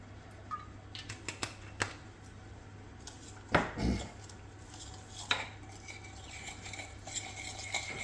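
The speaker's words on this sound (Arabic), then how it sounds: "وكنخلطوها كلها مع بعضياتها هكا" A spoon works herbs and olive oil together in a bowl for a fish tagine marinade, giving scattered clinks and scrapes against the bowl over a low background hum, close and quiet, with one louder knock midway.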